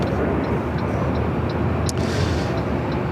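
An Allegiant Airbus A319 airliner approaches runway 24 left at LAX as a steady, loud roar of jet engines fills the air with broad, constant noise and no clear change in pitch.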